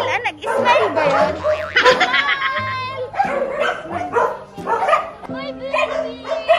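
An angry dog barks and yips in short bursts, loud and close, mixed with people talking and laughing over it.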